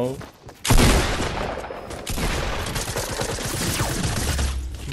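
Rapid bursts of Fortnite gunfire crackle close and loud, a sustained fusillade of shots after a brief quieter opening, with players talking over the shooting.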